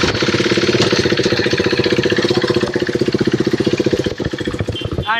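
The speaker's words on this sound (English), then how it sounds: "then crank your bike" Motorcycle engine cranked and running, a loud close rapid chugging rhythm that holds steady, then falters briefly and picks back up.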